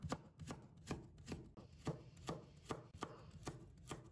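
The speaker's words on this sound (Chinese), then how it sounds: "改刀切成厚厚的薄片， 再切成粗粗的细丝" A kitchen knife chops a radish into thick slices and shreds, with about eleven sharp, evenly spaced thuds against a cutting board, close and clear with no talking.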